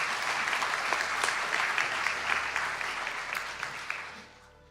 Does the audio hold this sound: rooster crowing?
no